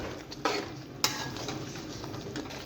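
Yogurt fries with beef in a karahi, making a brief, close sizzle. Sharp clinks of a utensil against the pan punctuate the stirring.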